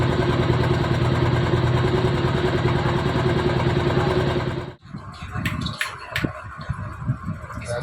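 Motorcycle engine idling steadily and loudly up close while a rider learns clutch control, then cutting out abruptly, leaving quieter clattering handling noises and faint background sounds.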